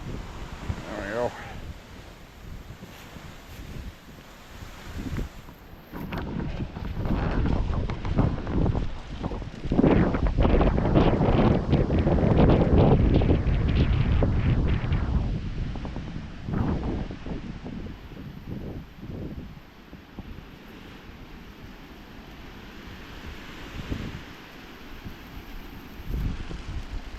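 A strong outdoor wind roars in gusts over a walk in Maine at night, building to a loud, broad rush in the middle before easing, with heavy buffeting on the microphone.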